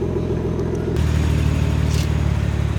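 A Nissan R34 GT-R fitted with a Tomei Expreme Ti exhaust idles with a deep rumble, then the note jumps to a louder, fuller revving drone about a second in and holds steady, heard up close.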